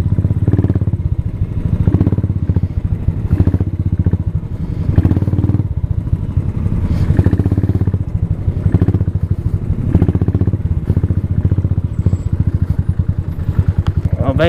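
A motorcycle engine rumbles loudly and continuously while riding a rough, rocky mountain road in Mustang, Nepal, with clattering and thumps from the uneven surface throughout.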